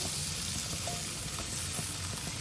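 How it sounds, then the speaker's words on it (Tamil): Cut potatoes fry in coconut oil with a steady, close, broadband sizzle and hiss that holds evenly throughout, with no voices. "இந்த பொட்டேட்டோ வந்து கொஞ்சம் நல்லா ஃப்ரை ஆகட்டும்"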